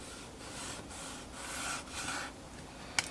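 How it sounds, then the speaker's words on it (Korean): A blade draws through something in slow, soft rasping strokes, fairly close, ending with a small sharp click. "손에 힘을 하나도 안 주고 한번 살짝 썰어 볼게요"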